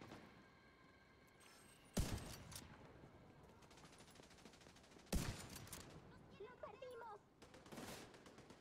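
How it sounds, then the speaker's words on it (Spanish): Sharp bursts of video game gunfire from The Division 2 crack out at intervals, a couple of loud volleys and scattered shots, with faint voices between them. "¿Ustedes no escuchan los tiros ya?"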